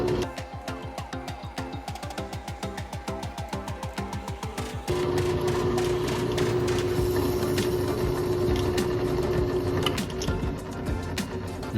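A drill boring holes through a knife handle scale liner into the handle material: first a pulsing, rhythmic whir, then a steady high drilling whine that holds until the end.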